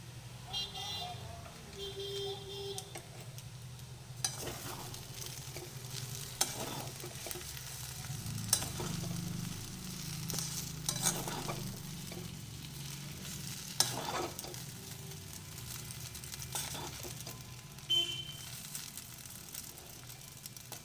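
Chow mein noodles tossed with vegetables and tomato sauce sizzle steadily in a pan, with repeated stirring scrapes and clacks throughout; faint car horns sound in the distance.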